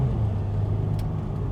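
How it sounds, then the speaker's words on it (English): A 2012 Mercedes-Benz GL350 Bluetec diesel accelerating, its engine giving a steady low rumble close by, with a brief higher burst near the end and no talk. "we're gonna try an acceleration run"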